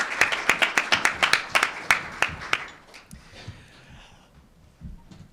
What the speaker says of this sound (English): another round of applause for all of our presenters on the panel